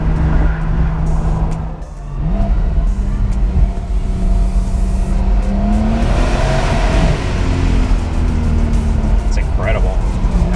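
A 2020 Porsche 911 (992) Cabriolet engine runs close and loud, its low note rising and falling with revs in a steady, continuous drone while a voice talks over it.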